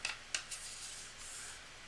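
A deck of reading cards being shuffled during a live mini-reading session, with a couple of quick riffling bursts at the start and then a soft, steady rustle of cards, quiet and close.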